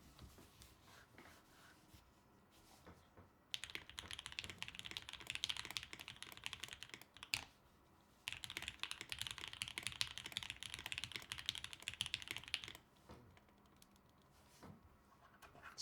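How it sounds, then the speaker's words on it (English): Fast typing on a custom top-mount TKL mechanical keyboard with a silicone gasket, two dense bursts of rapid keystrokes with a brief pause between them, close and fairly quiet, with sparser clicks at the start and end. "I refuse to type on a board with a ticking spacebar."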